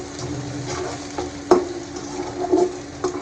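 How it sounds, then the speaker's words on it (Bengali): Onions frying in a pan on the stove, a low continuous sizzle broken by spatula scrapes and one sharp metallic clink, with no talking. "চুলায় পেঁয়াজটা দিয়ে দিয়েছি"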